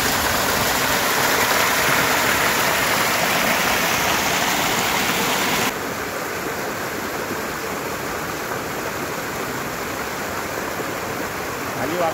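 A small waterfall sends water rushing down in a loud, steady broadband roar that drops slightly in level halfway through, with no voices.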